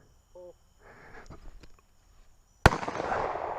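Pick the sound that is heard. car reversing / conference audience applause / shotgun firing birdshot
shotgun firing birdshot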